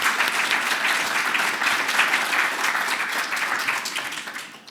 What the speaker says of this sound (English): A round of applause for this panel,